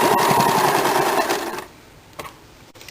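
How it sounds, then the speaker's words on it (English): A sewing machine runs steadily as it stitches the side seam of a lined blouse, a close, loud mechanical chatter for about a second and a half before stopping, followed by quieter handling noises. "Now I am doing the side seam complete the machine seam for"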